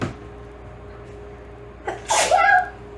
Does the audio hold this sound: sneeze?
yes